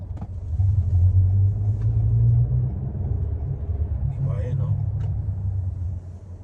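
A truck passes along a road, its deep engine rumble swelling loud for a few seconds and then easing off, while people talk nearby.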